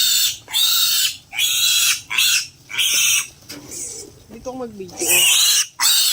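Pigs on a farm squealing loudly during castration, repeated piercing shrieks in bursts with brief gaps, close by, while a person talks briefly between squeals.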